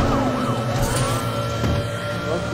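A police siren wails in the racing game Need for Speed The Run, its tone sweeping up and down over a loud, steady engine roar, close and persistent.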